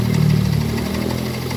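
Yamaha Mio scooter engine running close up with an internal ticking knock, a steady idle drone carrying a fast, even mechanical tick throughout, with no talk over it.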